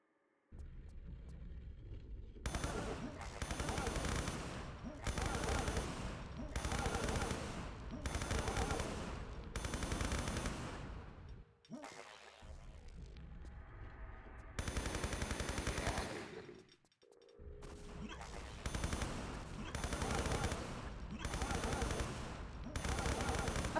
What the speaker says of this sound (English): I feel like Lara's firing at the floor.